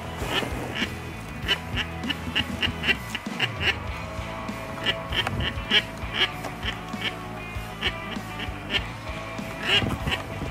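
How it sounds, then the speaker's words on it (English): Pintail and mallard ducks quack repeatedly in short nasal calls during a duck hunt, several birds close by, over a low background rumble with a faint voice. "Here comes some ducks. Here comes some ducks."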